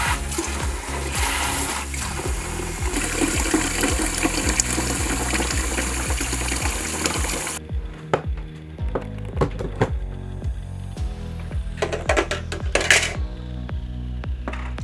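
Running water pours steadily into a countertop ice maker, then stops; a few splashes, light clinks and a brief hiss follow.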